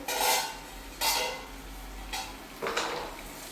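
A metal lid comes off a frying pan of fish fried in banana leaves. Several close, distinct clatters and scrapes of metal are spaced about a second apart over a low background hum.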